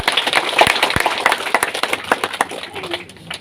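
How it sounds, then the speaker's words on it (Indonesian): Congregation clapping at a church blessing ceremony, a dense, close burst of many hands with sharp individual claps, loud and sustained for a few seconds, fading slightly toward the end. "Tepuk tangan dulu untuk mereka."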